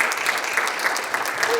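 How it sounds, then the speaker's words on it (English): Audience at a Relay for Life kickoff at Westland City Hall clapping for the relay teams, a close, steady patter of many hands that stays even throughout. "another round of applause for our teams."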